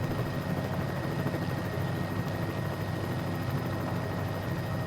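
Steady drone of a Bell 206L3 helicopter engine and rotor in Microsoft Flight Simulator 2020, idling on the ground at Orlando Executive airport, a constant, even whir with no voices over it.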